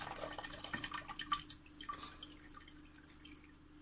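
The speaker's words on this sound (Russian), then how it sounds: "Вот так я слила водичку" Water from jars of pickled cucumbers is poured off into a pot, a faint splashing trickle that thins into soft drips and fades toward quiet.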